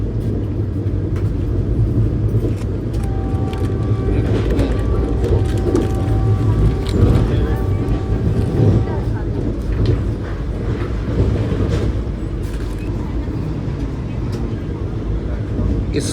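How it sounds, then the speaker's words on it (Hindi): Vande Bharat Express train running at over 100 km/h: a steady, loud rolling rumble with rattles and faint tonal whine throughout, heard from inside the coach as a person talks over it. "सौ के ऊपर की रफ्तार में इस समय ट्रेन चल रही है।"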